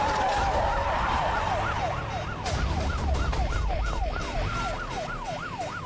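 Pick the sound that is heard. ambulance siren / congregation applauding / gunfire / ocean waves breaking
ambulance siren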